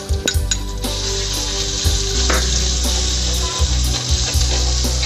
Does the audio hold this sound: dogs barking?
no